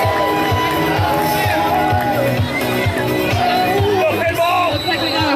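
A roller derby crowd cheers and whoops through a sustained, lively roar, with a voice speaking over the noise.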